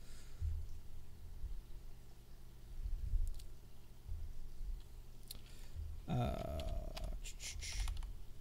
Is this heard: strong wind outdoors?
no